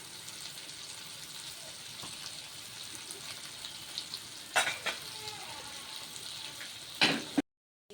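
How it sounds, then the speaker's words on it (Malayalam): Anchovies and potato pieces fry in a pan, a steady close sizzle with a couple of sharp scraping stir clatters near the end before the sound cuts out abruptly. "ഇതാണ് നൊത്തോലി ഫ്രൈ, ഉരുളക്കിഴങ്ങ് ഫ്രൈ"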